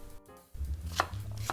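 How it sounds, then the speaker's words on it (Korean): A knife slices thinly through an onion on a cutting board, making a few crisp chopping strokes close by, with no talking. "양파요 아주 얇게 썰어주세요"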